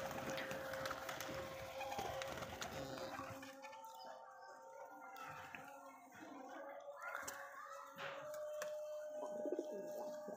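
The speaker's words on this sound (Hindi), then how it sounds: "मेरा पसंदीदा कबूतर है ये।" Pigeons, high-flyer birds kept at a home loft, cooing softly in a low gurgling murmur over faint background noise, fairly quiet and continuous.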